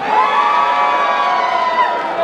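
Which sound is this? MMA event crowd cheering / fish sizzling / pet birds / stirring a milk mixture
MMA event crowd cheering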